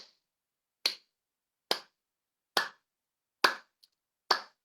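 Hand claps inside a home room, five sharp, single claps spaced evenly about a second apart, crisp and close with short decays and quiet gaps between, plus a tiny faint tick in one gap.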